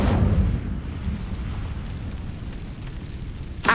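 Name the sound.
Incendio fire spell cast in a wizard video game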